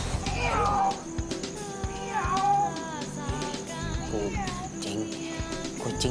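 A cat meows at night, three drawn-out wavering cries spaced a second or two apart, fairly faint over a low background rumble.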